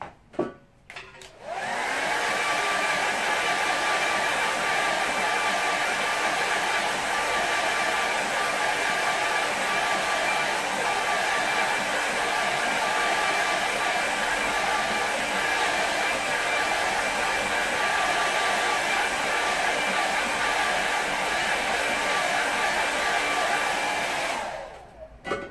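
Hair dryer blowing over a watercolour painting of a Highlands scene, a loud steady whooshing roar that switches on near the start, runs unbroken for over twenty seconds, then cuts off.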